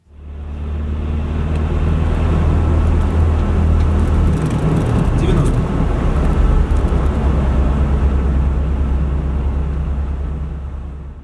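Inside a UAZ Hunter's cabin, a loud, steady low engine and road drone builds as the vehicle accelerates from 80 to 90 km/h, with wind and tyre rumble throughout and no talking.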